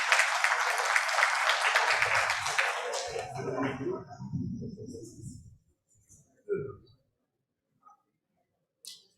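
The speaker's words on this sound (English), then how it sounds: "a huge round of applause" Conference audience applause for a speaker finishing a talk at an advertising industry report event, a dense burst of clapping over the opening seconds that thins into scattered claps and fades, with a few isolated claps near the end.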